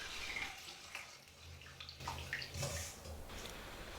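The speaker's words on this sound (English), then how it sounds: "Put the rice back into the bowl and wash again." Soft sloshing and swirling of water in a bowl, with gentle rubbing and trickling sounds, close and quiet.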